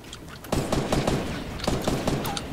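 Gunfire in the video game Fortnite during squad play, rapid bursts of sharp shots in quick irregular succession, loud and close, with no voices over them.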